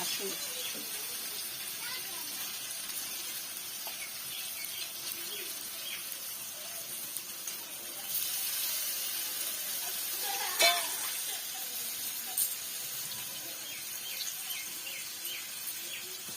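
Meat dropped into well-fried spices in a pan sizzles and hisses steadily at close range, with a brief louder crackle partway through and a voice speaking over it.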